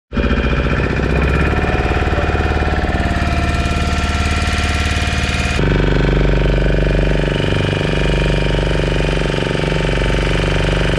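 A motorboat engine on Chilika Lake runs loud and close, a steady rumbling drone with a rapid knocking pulse that starts abruptly and continues throughout, shifting slightly in tone midway.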